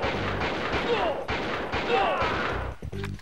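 Pistol shots from the video game XIII on PS2: a couple of sharp, loud bursts about a second apart amid dense game noise, with talking mixed in.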